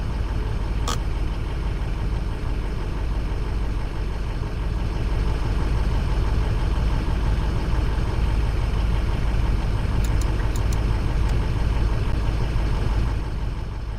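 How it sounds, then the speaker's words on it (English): A Ford pickup truck engine idling in the game Greenville, a steady deep rumbling drone that holds close and loud throughout with only a few faint clicks on top and no talking. "Oh, the idle sounds so good."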